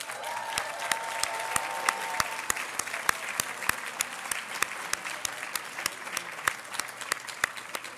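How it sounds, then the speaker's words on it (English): Sustained audience applause at an award dinner honoring Sherrilyn Ifill, a dense steady wash of many hands with a few sharper individual claps standing out, lasting throughout without speech. "She really deserves endless applause."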